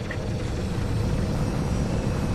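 Bomber ships flying in the Star Wars Battlefront II video game, a continuous low roaring engine drone that holds steady and loud throughout, with no talk.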